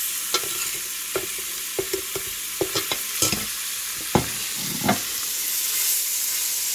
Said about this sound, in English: I'm just going to be putting all of the beef in with the onions.